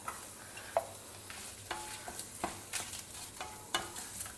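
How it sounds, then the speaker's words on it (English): Roughly chopped onion sauteing in a pan for a homemade Indian vegetarian meal, a soft continuous sizzle with intermittent spatula scrapes and taps, fairly quiet and without voices. "Saute the onions till they are transparent."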